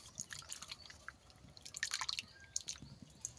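Kuchia eel fish are rinsed in hot water, with close, irregular drips and small splashes, sometimes clustered in quick bursts, and no talking.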